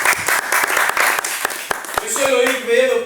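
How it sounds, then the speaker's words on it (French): Audience at a speed-dating show applauding, a run of sharp claps that fades into a rising, tonal voice near the end. "Applaudissez pour elle."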